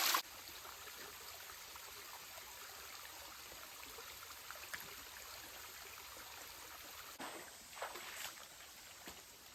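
Faint, steady trickle of a small stream of water, soft and continuous, with a few slightly louder splashes near the end.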